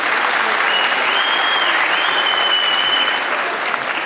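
Loud, dense applause from an event audience in Erzurum, continuous and even, with a faint whistle-like tone riding above the clapping.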